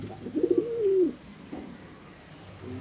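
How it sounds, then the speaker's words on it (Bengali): Pigeons coo in a balcony loft where an army pigeon chick has just hatched: one clear, rolling coo up close, then softer, fainter coos against a quiet hiss. "এটা হলো আর্মি কবুতরের বাচ্চা।"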